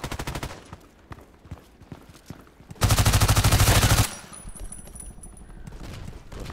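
A PDR-C submachine gun firing in the Contract Wars video game: a rapid, loud full-auto burst of about a second, preceded by scattered softer shots and followed by quieter game sounds.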